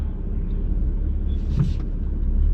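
A BMW M car on a race track during a track day passes at speed, giving a steady engine roar with a brief higher whine rising in the middle, heard alone without talk.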